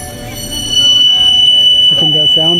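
A train moves through a Tokyo station with a loud, steady rumble and a high, sustained metallic whine. A voice briefly sounds near the end.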